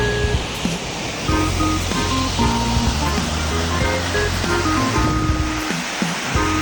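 Steady broadband rush of the Mino waterfall at the end of an uphill run, loud and continuous, with faint tonal hums and background sounds mixed in.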